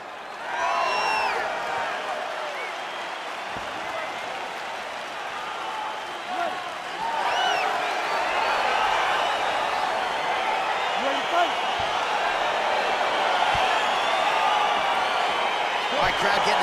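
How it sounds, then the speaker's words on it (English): A UFC arena crowd roars and cheers as a fight gets underway, a loud, continuous wash of voices and applause that swells even louder midway, with announcer-like talk mixed in. "crowd getting excited as this fight gets underway"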